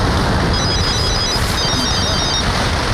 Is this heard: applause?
no